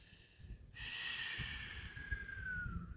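Deep, steady breaths are drawn and released through the nose during a hip and shoulder opening yoga stretch, hands clasped behind the back. The breathing is soft and close, with a faint tone running across it and no speech.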